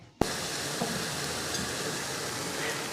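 Steady, dense sizzling of potato pancakes frying in hot fat, starting with a sharp burst and continuing evenly without talk.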